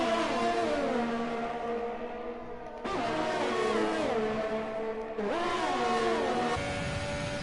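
Several Ferrari-powered race cars in a sim racing game scream past in close formation, engines rising and falling through gear changes, with two sharp upshifts and loud layered revving throughout.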